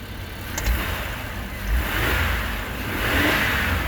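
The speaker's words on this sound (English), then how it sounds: "if I give it a little bit of gas and put my foot on the gas pedal and I rev it up" A car engine, on a vehicle being checked for fuel pressure, rises and swells as the gas pedal is pressed, a loud steady rumble with two gradual rev surges.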